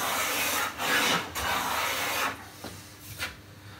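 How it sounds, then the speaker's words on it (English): Sharp blade taking fine shavings off a piece of satinwood, giving several soft, close rasping strokes of varying length separated by brief pauses, with no talking. "It's almost therapeutic, just making nice fine shavings."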